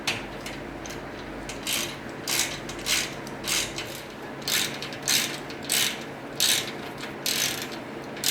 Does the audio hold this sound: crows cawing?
no